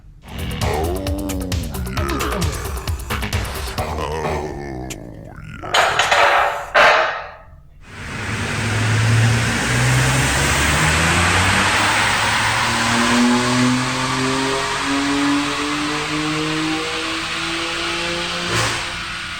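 A tuned BMW F80 M3 track car revs hard on a dyno, its engine climbing in pitch after a few short blips, then holding a loud, sustained high-rpm pull up close, with no talk.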